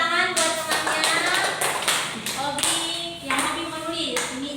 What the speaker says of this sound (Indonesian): Ini tepuk tangan buat temannya.